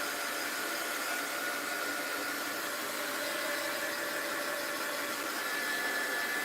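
Heat tool blowing steadily while it dries wet paint in a mixed-media art journal, a constant close whirring hiss with no talking.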